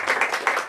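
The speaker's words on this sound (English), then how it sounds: "Let's go ahead and just give a round of applause now." Applause from the audience at a bookstore event: a brief burst of mixed clapping from a crowd, fairly close and steady.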